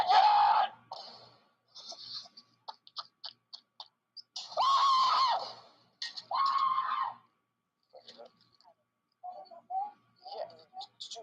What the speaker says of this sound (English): Did you hear scream?